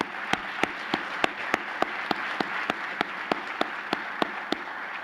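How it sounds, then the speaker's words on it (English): Audience applause at a fire, rescue and emergency medical services awards ceremony, a dense wash of clapping with one prominent near clapper beating a steady rhythm roughly three times a second. "Let's give Tara a big round of applause, our district director."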